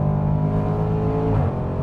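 A 2018 Range Rover Sport SVR facelift's engine revs loudly and close, a deep sustained rumbling growl with a brief rise in pitch partway through, with no voices over it.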